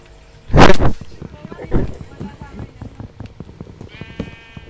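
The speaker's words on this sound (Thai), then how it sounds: "แกะ" Sheep bleat in the video game Minecraft, two loud bleats followed by a run of fainter ones, with game sounds and a voice talking.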